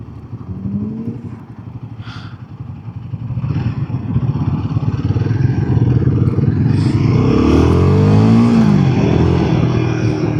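A Royal Enfield 450 motorcycle under way, its engine building from a low rumble to a louder sustained pull with wind noise, heard close from the rider's position.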